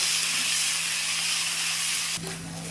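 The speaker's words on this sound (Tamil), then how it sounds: "இந்த எண்ணெயிலே நல்லா வதங்கணும்" Grated raw mango sautéing in hot oil gives a steady, close, bright sizzling hiss that shifts slightly near the end.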